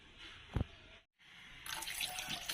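A kitchen tap splashes water while squid is being washed, with a short thump and a brief pause before the water resumes as a soft, steady hiss and spatter.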